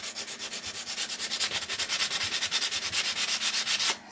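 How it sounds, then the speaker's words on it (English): Rhythmic back-and-forth rubbing on a painted wash stand, wearing paint away to expose the copper beneath, steady close scraping strokes repeating for about four seconds before stopping. "rub away some of the paint to start naturally revealing the copper so it looks like rust"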